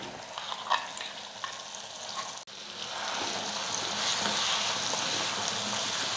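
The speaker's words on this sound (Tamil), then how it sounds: "சட்னி சேர்த்ததுக்கப்புறம் ஒரு நிமிஷம் நம்ம எண்ணெயில் வந்து நல்லா கொதிக்க வச்சுக்கலாம்." Ground garlic chutney is added to hot oil with roasted lentils, setting off a sudden, steady, loud sizzle that continues alone after a quieter stir-frying crackle.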